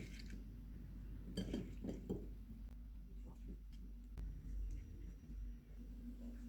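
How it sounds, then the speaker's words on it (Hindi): Fruit chaat being transferred into a serving dish, with soft clinks of a spoon and glass or crockery, a few light knocks scattered over a low steady room rumble. "अब इसको हम सर्विंग डिश में डाल लेते हैं"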